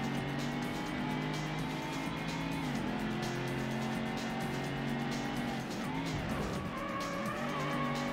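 Ford Mustang in the Ford Racing video game braking hard and cornering through a hairpin, with a steady engine drone, shifting pitch as it slows, and tire squeal running continuously and loud throughout.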